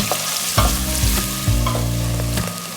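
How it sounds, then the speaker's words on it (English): Onions fry in a pan for moussaka, giving a continuous sizzle broken by a few louder scrapes and clanks as they are stirred. "Cook your onions down for about 2 to 3 minutes until they start to go nice and soft"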